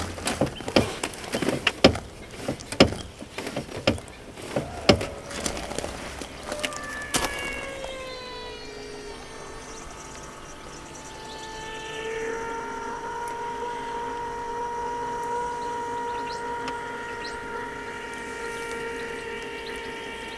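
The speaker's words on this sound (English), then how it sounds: "Sounds like it's bleeding air out of the system." Fuel pump priming on a Land Rover Discovery 2 Td5 while air bleeds from the fuel system: irregular clicking and ticking, then a steady mechanical whine with shifting tones that hums on at moderate volume.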